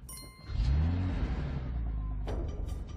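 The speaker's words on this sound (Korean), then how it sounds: "목소리로 시동을 거는 자동차를 타고 위기를 모면합니다." A car engine starts by voice control and rises into a revving roar that holds at a steady, loud drone, with a brief sharp burst near the end.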